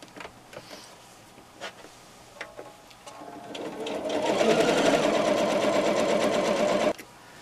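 A sewing machine running a long straight stitch on a scrap-fabric pot holder: a few soft clicks and handling sounds, then a loud steady mechanical whirr that runs for a few seconds and stops abruptly.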